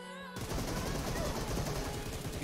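Rapid automatic gunfire in PUBG Mobile, a dense loud burst of shots starting abruptly after a brief quiet moment and continuing without pause to the end.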